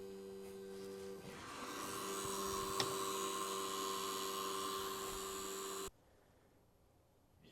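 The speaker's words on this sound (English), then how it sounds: "Got a noisy SUNLU AMS heater." A noisy heater fan in a SUNLU AMS filament dryer gives a steady whining hum that runs evenly for several seconds, then cuts off abruptly into near silence.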